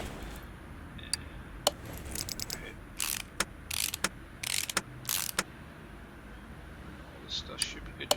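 Shock absorber being fitted to a Dodge Charger's undercarriage in Car Mechanic Simulator 2018: quiet clicks and a few sharp ratcheting bursts, spaced irregularly over a low background hum.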